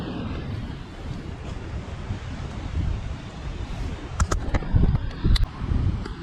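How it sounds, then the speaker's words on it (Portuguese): Steady wind buffeting a microphone with a low rumble of the sea at the seaside Forte dos Reis Magos in Natal, loud and continuous, with a few sharp knocks toward the end. "Tomara que a gente consiga falar sem muito ruído por causa do mar, né? Por causa do vento."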